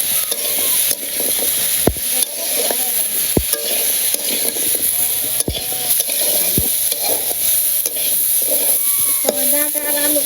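Vegetable stems and potatoes are sautéed in a pan: a loud, steady sizzle with repeated sharp scrapes and clacks of a spatula stirring close by.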